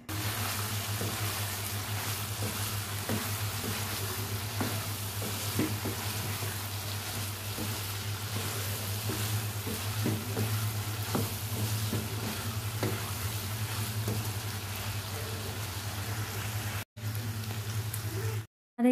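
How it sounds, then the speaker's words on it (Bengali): Spices and boiled chickpeas sauté in a pan with a continuous sizzle and frequent scraping stir strokes over a low steady hum, ending abruptly with a brief cut near the end. "সব মশলা আমি ভালো মতো কষিয়ে নিচ্ছি, তারপর চানা দিয়ে দেব"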